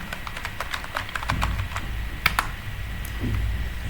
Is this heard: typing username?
yes